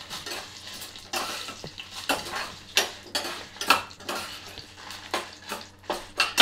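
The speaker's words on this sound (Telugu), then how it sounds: "ఇప్పుడు ఎండుమిర్చి, ఎండుమిర్చి ఫ్రై చేసుకోవాలి," Dry red chillies fry in a pan for an easy ginger chutney, a soft sizzle broken by repeated scraping and clinking strokes of a spoon against the pan in an uneven rhythm.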